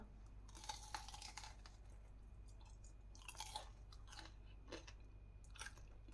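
Crunchy snack, bought by a grandmother at a flea market, being chewed near the microphone in several bursts of crisp crunching with pauses between bites, no talking.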